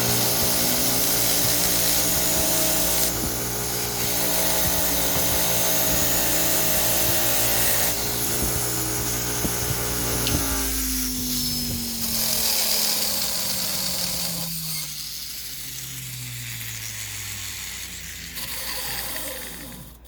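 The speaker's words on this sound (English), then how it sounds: "I put it on reverse, I turn the bench grinder on, and then I run this at the same time, and it cleans it right off." Bench grinder spinning a wire wheel brush in reverse while a chainsaw part caked with jammed aluminum is cleaned against it, a steady loud whirring motor hum with shifting scraping tones, alone without talk.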